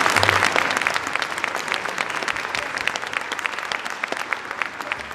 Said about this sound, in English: I will applaud for the building.